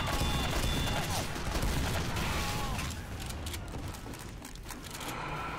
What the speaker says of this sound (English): the panic attack, you fire very quickly